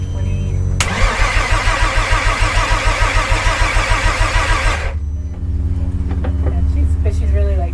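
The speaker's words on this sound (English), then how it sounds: "2 more times, and we're gonna fire this bad boy up." A car's engine cranks for the first time with about four seconds of rapid rhythmic starter churning, then abruptly stops, leaving a low rumble while people talk nearby.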